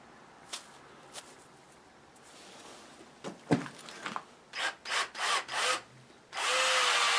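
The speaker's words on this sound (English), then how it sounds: "I'm going to put this little drill bit in here." A few faint taps, then a keyed-chuck power drill with a 1/16-inch bit whirs in short bursts before running steadily and loudly, close by, in an old barn, with no talking.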